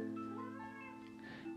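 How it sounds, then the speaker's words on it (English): A house cat lets out a short, faint meow, a single drawn-out call heard alone indoors. "Oh no, there's a cat!"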